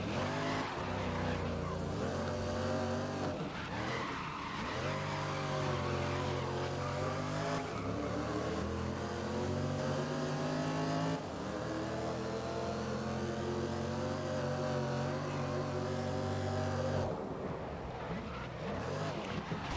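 A race car engine in GRID (2019) on PS4 revs and accelerates loudly and continuously, its pitch rising and dropping with gear changes, with brief tire squeals and skids.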